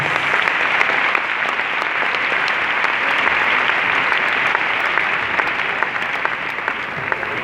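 Church congregation applauds for the Lord with loud, steady, dense clapping from many hands, sustained evenly without pause across the whole stretch.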